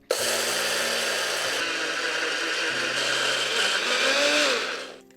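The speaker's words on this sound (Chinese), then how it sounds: "放入搅拌器里，磨成很细的黑芝麻粉" Blender grinding roasted black sesame seeds with sugar into a fine powder, a steady, loud whirring motor drone that holds for about five seconds and then winds down.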